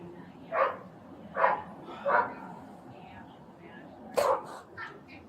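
A dog gives several short barks at intervals, close but moderate in level, the last one a slightly doubled yip, with a quiet room behind it.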